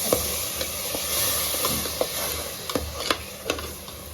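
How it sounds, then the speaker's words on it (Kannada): Tomato puree being stirred into keema biryani masala in a pan, giving a steady sizzling fry with scattered scraping and clicking strokes of the spoon, close and fairly loud with no talk. "ಹಾಗೆ ಟೊಮೊಟೊ ಪ್ಯೂರಿನೂ ಹಾಕ್ಕೋಬೇಕು. ಸ್ವಲ್ಪ ಮಿಕ್ಸ್ ಮಾಡ್ಕೊಳ್ಳೋಣ."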